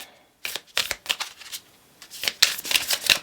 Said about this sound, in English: the deck is already shuffled, but I want to shuffle it some more